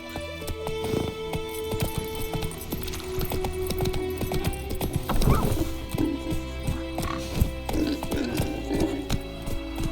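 Horse hooves clip-clop steadily in The Witcher 3: Wild Hunt, a continuous rhythmic trot blended with dense game ambience and music, with a few louder thuds midway.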